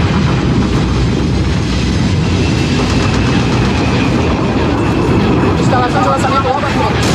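Rumbling engine drone of an enemy transport aircraft in Halo: Reach, a steady loud roar that fills the whole stretch without a break, with faint battle noise and a voice talking over it.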